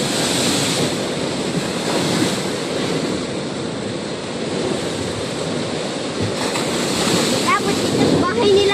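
Strong ocean waves crash and surge against the shore in a continuous loud roar, with wind buffeting the microphone; a few voices are heard faintly over the surf.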